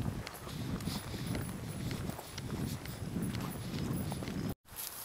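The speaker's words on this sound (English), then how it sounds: "Beautiful horses." Horses walking outdoors in Smithville, Tennessee, hooves clip-clopping in a steady, uneven patter close by, with a brief dropout near the end.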